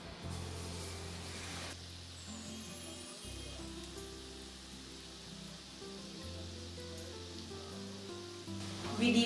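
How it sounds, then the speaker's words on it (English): Banana vada deep fries in hot oil, giving a soft, steady sizzling hiss with a low rumbling hum underneath and no talking. "We deep fry our banana vada."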